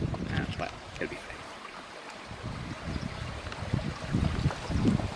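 A Peak District stream flows steadily near the microphone, a continuous rushing, burbling wash of water with some wind buffeting, during a stop on a KTM 790 Adventure trail ride.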